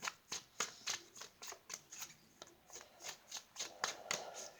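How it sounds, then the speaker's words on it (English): Tarot cards shuffled by hand during a love reading, a quick run of crisp riffling slaps about every third of a second, close and fairly quiet, with no talk. "Let me shuffle a bit more and see if anything comes out for that"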